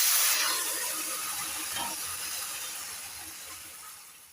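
Ingredients hit hot oil in a pan while cooking shukto with neem leaves: a sharp burst of sizzling hiss that fades steadily over a few seconds, with no talking.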